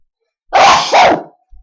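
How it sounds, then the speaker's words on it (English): A single loud, close sneeze bursts out in two quick parts, a sharp inhale-like onset followed by the explosive release, then silence. "I am going to sneeze."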